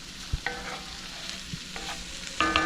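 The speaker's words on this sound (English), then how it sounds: "I'm going to let this continue to saute for a few minutes" Peppers, onions, garlic and mushrooms sauté in a pan with a continuous sizzle, broken by several clinks and scrapes of a utensil stirring the vegetables.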